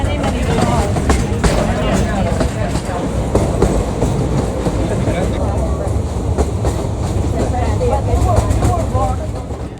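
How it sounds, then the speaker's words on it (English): An ecological jungle train rolls along its track, steady rumbling with repeated clickety-clack wheel beats close by, while people talk throughout over the noise. "Then we took the ecological train for the 15-minute journey through the jungle to the Devil's Throat station."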